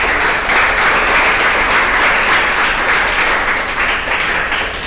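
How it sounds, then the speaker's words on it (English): Audience applause at a sustainable development talk series, a loud, dense and steady roar of many hands clapping close by, continuous for about five seconds with no speech over it. "So give him a round of applause."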